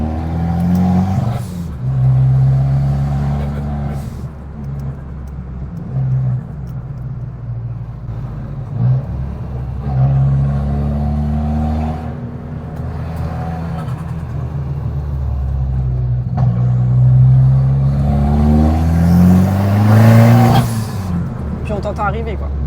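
An Abarth 595 engine pulls and accelerates, a loud low rumbling drone that swells and revs in waves, heard from inside the car while people talk over it throughout.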